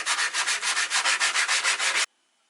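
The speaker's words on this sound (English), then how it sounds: "120 sandpaper." Skateboard deck edges being hand-sanded with 120-grit sandpaper on an electric off-road board: about a dozen quick, even back-and-forth rasping strokes, loud and close, then sudden silence.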